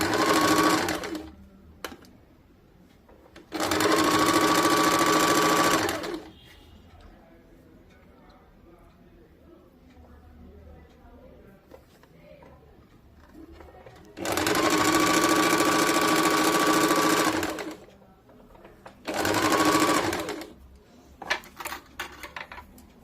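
A sewing machine stitches a blouse in three bursts of steady, fast mechanical whirring, separated by quieter gaps with handling clicks and fabric shuffling, while a person speaks throughout.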